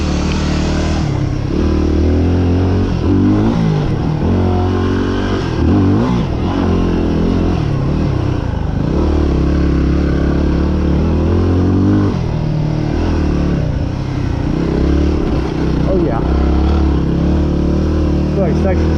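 Dirt bike working slowly over a rocky mountain trail, its engine loud and close with steady throttle swells and chugging revs, plus clattering over rocks throughout.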